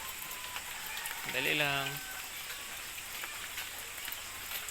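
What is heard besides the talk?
rain falling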